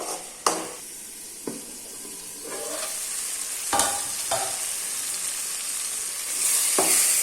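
Onion masala frying in oil for onion rice gravy, stirred with a few sharp utensil knocks against the pan over a continuous soft sizzle, with hissing steam rising toward the end.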